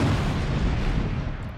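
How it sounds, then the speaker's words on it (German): A dense, sustained roar and rumble fills the sound as a hillside in a Roman mine bursts open from built-up water pressure, loud and continuous throughout with no voices. "ein immenser Druck baut sich auf und der Berghang explodiert."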